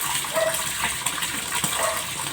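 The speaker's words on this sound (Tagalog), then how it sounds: "Sa akin ganito lang oh, nilalagyan ko lang ng tubig para matanggal yung acid na nasa ibabaw." Water pours steadily into a tarpaulin catfish pond with a continuous, close gushing splash and no talking.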